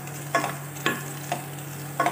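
Garlic sautéing in country cow's milk ghee, a steady soft sizzle beneath four spaced scraping stir strokes of a spoon in the pan, close and without talk.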